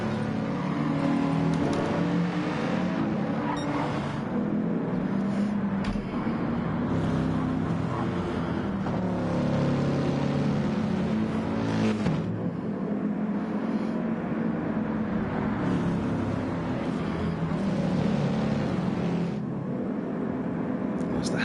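Race cars at the Nurburgring 24 Hour race rev and accelerate through a restart, a continuous loud wash of engine noise with cars passing, under steady commentary.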